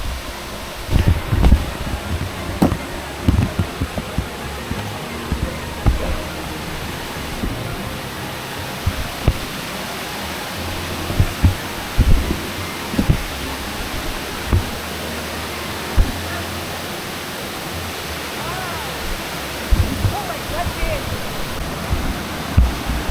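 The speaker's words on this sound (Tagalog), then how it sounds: "Dito na kami sa may Bangon Falls." The water of Bangon Falls in Samar rushes in a constant broadband roar, with frequent bumps and rustles close to the microphone over the top.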